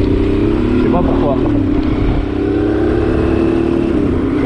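Honda Transalp 600 motorcycle engine droning steadily at low revs while riding, loud and close under continuous wind roar, with someone talking over it.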